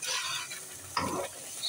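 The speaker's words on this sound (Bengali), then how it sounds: "সব মশলাগুলোকে ভালো করে কষানো হচ্ছে।" Spices being sautéed and stirred in a pan for a country-chicken korma, with a soft sizzle broken by a brief louder scrape of stirring near the middle.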